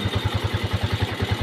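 A motorcycle engine idles after a push-starter start, a close, loud, evenly pulsing putter with regular beats in quick succession.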